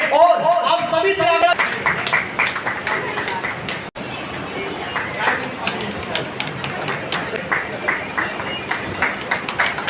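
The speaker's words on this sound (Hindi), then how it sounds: "ताली बजती रहे।" An audience claps in steady rhythmic applause at a company's seventh anniversary celebration in Darbhanga, the claps partly buried under a loud amplified voice speaking over them.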